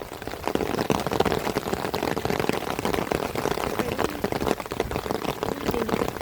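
Heavy rain pours down in a dense, continuous patter of drops striking surfaces and umbrellas, steady and fairly loud throughout without talk.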